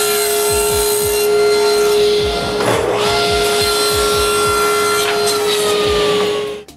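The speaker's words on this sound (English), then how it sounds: "I rip a mahogany board, surface it, and cut some triangles out of it." A saw rips through a mahogany board and cuts triangles from it in a steady, loud run of repeated cutting strokes, with the whine of a power tool underneath and no talking.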